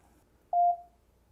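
A single short electronic Bluetooth connection beep from a Pheanoo P27 sound bar, clean and steady, followed by quiet.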